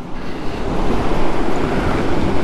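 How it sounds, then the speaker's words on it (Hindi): White water rushes down through Harsil Valley in Uttarkashi, Uttarakhand, in a loud, continuous broadband roar like wind or surf, steady from start to finish with no talking. "वहां से ऊपर से वहां से पानी आ रहा है, बिल्कुल वाइट पानी भाई, बिल्कुल सफेद।"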